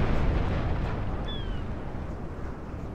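Heavy cannon broadside from the Spanish warship Santísima Trinidad in a Napoleon: Total War naval battle, a deep rumbling boom that rolls on at moderate distance under continuous battle noise.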